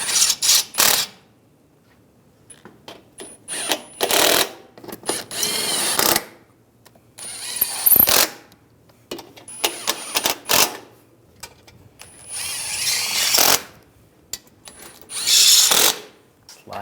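A ratchet tightens bolts on a radiator fan for a 2013-2016 Dodge Dart, with repeated bursts of clicking spread across the clip, loud and close, separated by quiet pauses.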